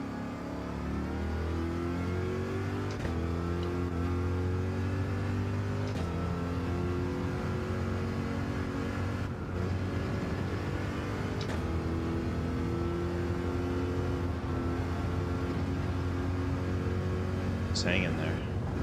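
Race cars in Gran Turismo 7 rev and accelerate in a steady, continuous engine drone with shifting pitch bands, loud and constant throughout, with a voice talking over it at times.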